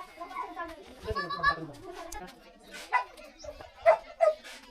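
Several dogs bark and yip at a campsite on a protected mountain landscape, short sharp barks scattered across the clip amid people chatting nearby.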